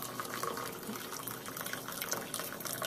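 French press coffee poured out into a cup, a steady liquid stream splashing and filling continuously for a few seconds at close range, with no talking over it.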